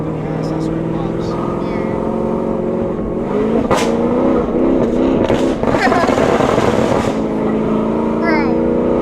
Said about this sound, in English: The downshifts on this thing sound so good. Yeah, then when I let off the gas, that's where it pops.